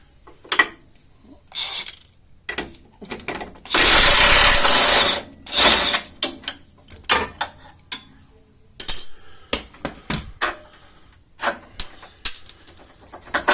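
Hand tools work loose the upper track arm bolt on a truck's front axle, giving sharp metallic clinks and clanks. A loud, sustained ratcheting burst sounds in the middle, with scattered knocks and taps around it.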